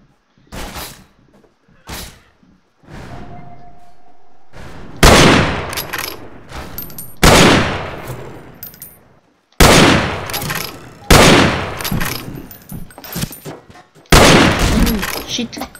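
Rifle shots crack in a Wild West video game, arriving as a series of loud, sharp bursts spaced a second or two apart, each with a short echoing tail.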